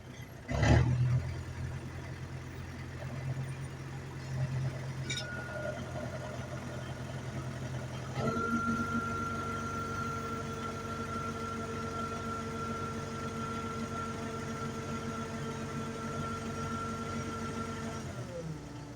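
A YuMZ/MTZ tractor engine runs steadily through a hydraulics test with a weak NSh-32 pump, idling with a constant low hum, a brief louder start and a slight shift in tone partway through, heard close and continuous.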